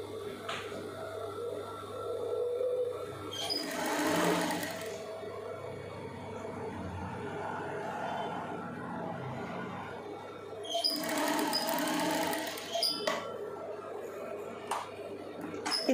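A sewing machine stitches a folded hem on a blouse in short bursts of whirring over a steady low hum, with quieter handling noises in between and no talk.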